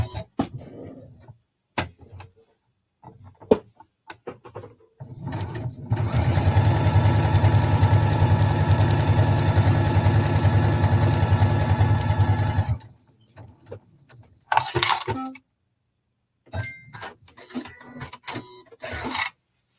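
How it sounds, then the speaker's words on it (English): Sewing machine stitching two pieces of regular cotton fabric along a 5/8-inch seam, a steady, loud mechanical whirr for about seven seconds, framed by brief clicks and handling taps before and after. "I'm going to stitch these together at a 5/8 of an inch seam allowance."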